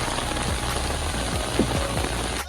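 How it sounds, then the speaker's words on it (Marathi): Heavy rain hisses in a dense, constant wash on surfaces close by, with a few low thuds underneath and no voices. "जोर आहे पावसाला भाऊ"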